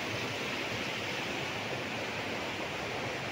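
Spring-fed stream water rushes in a steady, dense hiss at a resort in Liliw, Laguna, continuous and fairly close with no voices over it.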